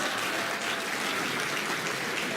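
An audience at a talk on Rajyoga meditation breaks into steady, dense applause, a continuous wash of clapping with no voices over it.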